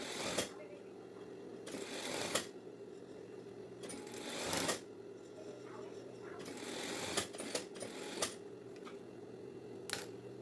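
Sewing machine stitching a half-centimetre hem on a collar for a women's lab coat, several bursts of rapid whirring stitching separated by pauses, close and moderately loud.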